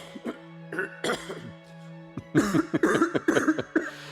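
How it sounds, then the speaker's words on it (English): Repeated harsh coughing, scattered at first and then a rapid, heavy fit of several coughs in a row, close by. "How long have you had that cough?"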